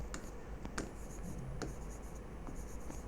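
Chalk or marker scratching on a board during a physics lecture on laws of motion, a run of short quick strokes and taps, close and fairly quiet over a low background hum.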